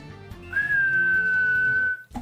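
A person whistles one long, steady, fairly loud note lasting about a second and a half, imitating a referee's final whistle in a football video game, with faint background game sounds around it.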